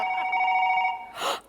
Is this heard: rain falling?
no